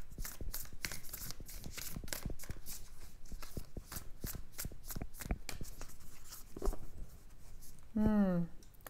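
An oracle card deck, Work Your Light, shuffled by hand in a quick series of crisp riffling flicks and slaps, close up, with a brief voiced sound near the end.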